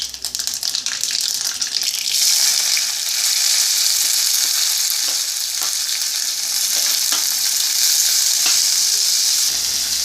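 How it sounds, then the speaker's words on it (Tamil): Mustard seeds and onion sizzle loudly in hot oil for sambar, with a steady crackling hiss running throughout and occasional sharp pops from the spattering seeds. "எண்ணெய் காஞ்செடுத்து நான் வந்து கடுகு தாளிச்சிட்டு வெங்காயம் போட்டு வதக்க போகிறேன்"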